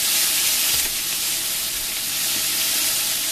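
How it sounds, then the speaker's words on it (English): Ground beef browning in a hot pan, a steady loud sizzle and frying hiss with occasional soft stirring scrapes, no voices. "we're just going to brown some ground beef"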